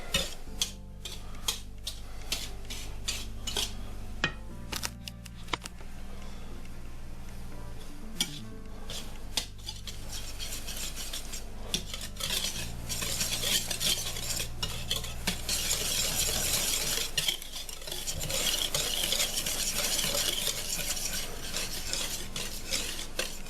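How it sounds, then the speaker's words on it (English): Chocolate cake batter being whisked by hand in a bowl, a steady scraping, stirring rhythm with frequent wire-on-bowl clinks, close and continuous for the whole stretch with a low hum underneath and no talk. "So we're whisking through to combine."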